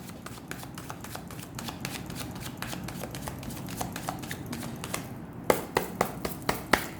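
A deck of tarot cards is shuffled by hand in a quiet room, a rapid series of soft riffling slaps ending in a few sharper taps as the cards are squared.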